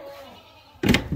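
Goats bleat in a sudden loud, close burst of two calls, following a stretch of quiet room tone.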